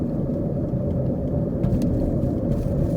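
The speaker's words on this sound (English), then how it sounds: "Driving through here, the main street right here in downtown Rockwood." A car driving along the main street of downtown Rockwood, Tennessee, heard from inside as a steady, loud low rumble of engine and road noise with a few faint ticks.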